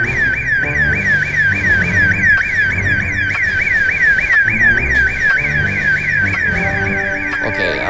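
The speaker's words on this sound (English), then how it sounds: "I really don't like hearing the alarm, so I'm gonna walk away from here." A car alarm wailing in a fast, regular up-and-down siren cycle that repeats loudly and steadily over a low background murmur, with no talking.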